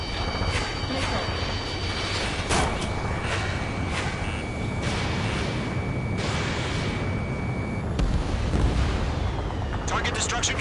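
Missiles burst repeatedly in Ace Combat 7: Skies Unknown, a loud, continuous barrage of booming blasts layered over roaring jet engines, with sharp impacts recurring every second or two.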